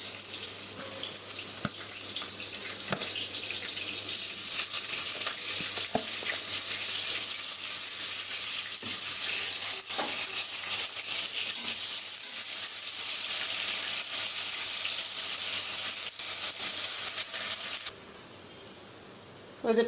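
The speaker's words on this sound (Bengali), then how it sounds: "তো এই যে মাংসটা রান্না বসাচ্ছি, তেল দিয়ে দিলাম আমি" Meat frying in oil in a pan, a steady loud hiss and crackle of sizzling that continues unbroken for nearly twenty seconds with occasional small pops, then drops slightly near the end.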